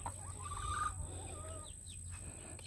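Young chicks being moved to a new home cluck and peep, with a few short chirps over a low steady hum, fairly close and without talk.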